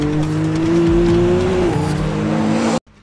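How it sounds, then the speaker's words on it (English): A McLaren Artura sports car engine revs loudly and steadily with a rising tone that shifts midway, sustained close up for nearly three seconds before cutting off abruptly. "This sounds like a McLaren P1."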